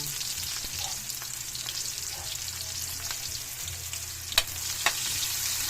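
Garlic sautés in hot oil in a pan for a Filipino odong noodle and sardine dish, a continuous close sizzle with scattered soft scrapes and two sharper clicks near the end.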